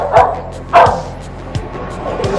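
A dog barks indoors in short, sharp bow-wow yips, about four barks spread unevenly over two seconds, close and fairly loud, with a few softer whimpering tones between them.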